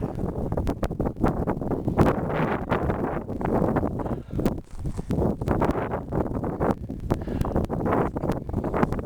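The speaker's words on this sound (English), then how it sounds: "Forgive the wind." Gusty wind buffets the microphone on a canyon ridge hike in Tierrasanta, San Diego, a loud continuous rumble with sharp irregular bursts and no talking.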